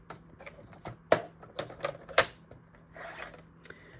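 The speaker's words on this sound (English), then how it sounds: "let's go ahead and score these two little ones" A scoring board used on a small piece of paper, producing a series of sharp, close clicks and brief scraping strokes at irregular intervals over a low steady hum, with no speech.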